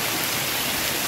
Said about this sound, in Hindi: तो भाई बरसात काफी तेज है